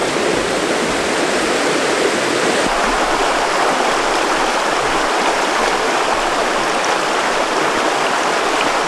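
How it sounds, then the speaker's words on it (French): Water pours steadily into a 5-litre solar shower bag, a close, loud, continuous rushing hiss with no pauses and no talk throughout. "je vais en profiter pour remplir la douche pour ce soir"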